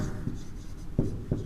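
A pen writing on a paper map: three or four short, soft scratching strokes, close by and quiet.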